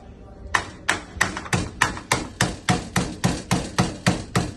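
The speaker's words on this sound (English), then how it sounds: "First, we need crush the Oreo cookies." Oreo cookies crushed in a kitchen, about fourteen sharp, evenly spaced pounding blows close up, each thud ringing briefly before the next.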